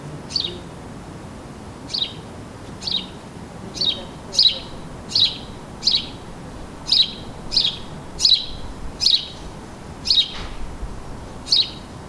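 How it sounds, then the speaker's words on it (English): A sparrow gives a series of short, sharp chirps, about a dozen spaced roughly one second apart, close and clear over a quiet background hum. "I think he's looking around for the other sparrows now and listening for their calls."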